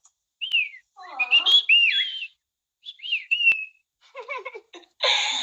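A cockatiel gives a series of bright, warbling whistles in short bursts separated by brief pauses, close and clear with no other sound around it.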